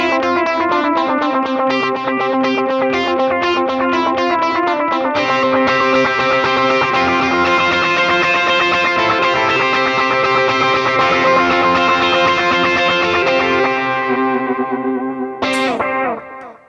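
Electric guitar through a Hotone Ampero II Stomp with overdrive and a dotted delay set to 120, playing dense, sustained distorted phrases with repeating echoes, loud and continuous before cutting off near the end with a brief burst.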